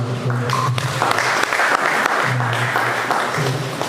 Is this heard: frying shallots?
no